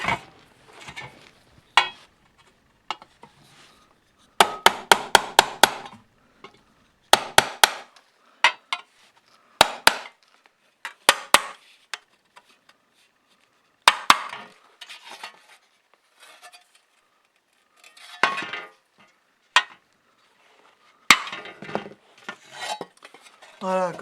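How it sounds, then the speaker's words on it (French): Sharp metallic hammer blows ring out in irregular bursts and quick clusters while the contours of a shield are beaten down, each strike close and bright, separated by quiet gaps. "Et je vais venir frapper autour, sur les contours, pour enfoncer les parties qui doivent être enfoncées."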